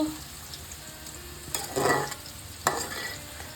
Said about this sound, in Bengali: এই যে এখানে আমার চিকেনটা হচ্ছে কষাচ্ছে